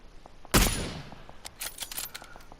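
A single sharp scoped rifle shot cracks out in a video game, aimed at a 300 meter target, followed by a decaying rumble and a few light clicks as the scope settles.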